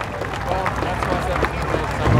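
A crowd at a county fair demolition derby applauds the fire department and emergency crews, steady clapping mixed with murmuring voices and background bustle.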